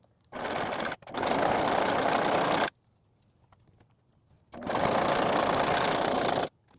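A sewing machine top-stitching fabric for a handmade book sleeve, running loud and close in two long steady bursts with a brief stop in the first and a quiet gap between them.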